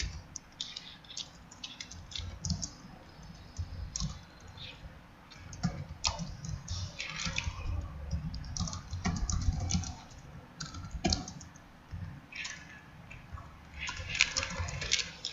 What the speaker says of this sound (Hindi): ये मैंने एक टेक्स्ट टाइप कर लिया